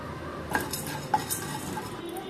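Cumin, pepper and fennel are dry-roasted in a pan, a metal spoon scraping and clinking against the pan a few times over a low, steady background.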